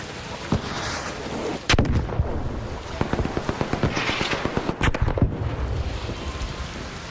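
Gunfire rattles through a video game firefight on the Spaceport map, with sharp single shots and rapid bursts cracking over a rumbling, noisy background.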